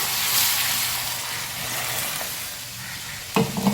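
Tempering sputters and crackles in hot oil for a mango sambar, a steady close sizzle throughout with a couple of sharper pops near the end.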